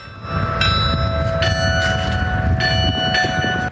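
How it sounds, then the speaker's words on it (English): Loud church bells ringing at noon outside Holy Name of Jesus Cathedral in Raleigh, repeated strikes and long sustained tones, layered over a steady low rumble. "Church bells ring at high noon outside Holy Name of Jesus Cathedral in Raleigh"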